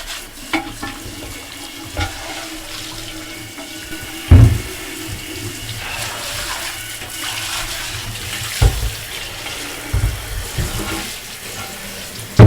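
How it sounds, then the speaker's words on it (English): Water splashes and pours from a watering can into a ceramic toilet bowl, rinsing away scale and debris, with a running trickle broken by louder splashes and knocks through the pour. "I wash away the scale and debris with a watering can."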